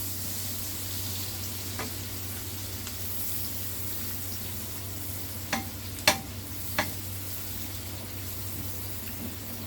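Garlic and onion frying in a pan, a soft continuous sizzle under a low steady hum, with a few brief utensil clinks and scrapes as they are stirred.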